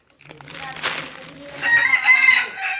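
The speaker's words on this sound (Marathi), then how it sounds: "ही कोंबडी" A rooster crows loudly and close by in a village during heavy rain, one drawn-out call rising toward the end, with faint background noise.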